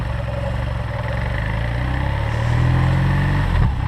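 A 2021 BMW R nineT's 1200 cc air/oil-cooled boxer twin runs in dynamic mode on a dry track, a close, steady, throbbing drone that swells slightly partway through, with no voices.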